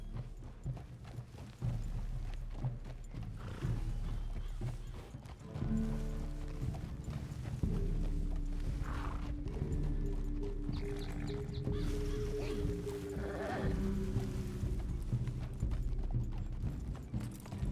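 Horse hooves clip-clopping at a steady riding pace on a trail in the video game Red Dead Redemption 2, with a brief whinny and faint ambient background, rhythmic and moderately close throughout.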